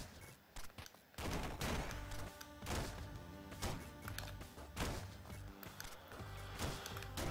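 Rapid bursts of gunfire in the video game Downwell, dense repeated blasts firing in quick succession throughout, loud and punchy.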